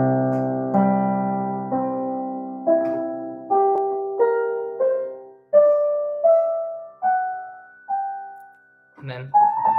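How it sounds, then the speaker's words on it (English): The harmonic series rings out as a sequence of sustained tones, each entering with a fresh attack and slowly decaying, with the pitches stepping through about nine notes alone, with no talk, and a brief rougher sound at the very end. "So I'm going to play the harmonic series."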